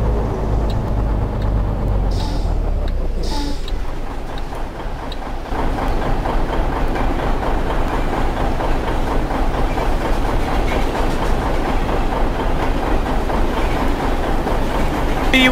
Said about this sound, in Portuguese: Lá vem o trem, cara.